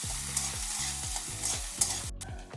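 Chopped onion, ginger, garlic and green chilli sizzling in hot oil while being stirred, with repeated scraping strokes of a spatula against the pan in a steady rhythm, close and moderately loud, no talking.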